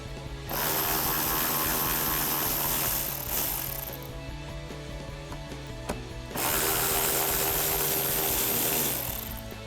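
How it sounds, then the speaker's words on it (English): 7mm screws on a 2021-2022 Ford F-150 fender well trim being backed out with a socket, heard as two long stretches of loud continuous mechanical whirring from a powered ratchet with a slightly quieter gap between them. "So I'll take them off the 7mm socket."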